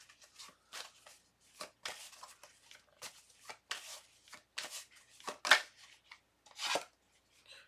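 Tarot cards shuffled by hand, producing quiet, close, irregular riffles and soft slaps in short bursts separated by silences, with no talk.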